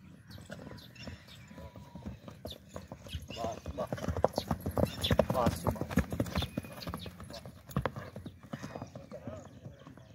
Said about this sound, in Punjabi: ਘੋੜੀ ਦੀ ਸਵਾਰੀ ਦੀ ਚੜੀ ਦੀ ਵੀਡੀਓ ਵੇਖ ਲਓ